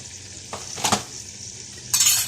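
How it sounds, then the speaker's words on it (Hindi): Masala of cumin powder, turmeric and roasted ground coriander frying in a pan for a liver and lung (kaleji phephra) dish, with a few short, close sizzling and stirring bursts and light clinks of a utensil on metal. "बस इसका मसाला थोड़ा भूनता है"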